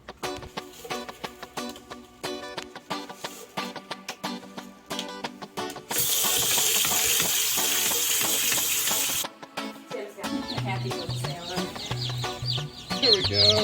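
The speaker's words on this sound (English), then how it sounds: "here's some really cute footage of some of the baby chicks that we got in at the store recently" Newly hatched baby chicks peep in shrill, rapid chirps, with a few seconds of steady, rushing water-like noise partway through.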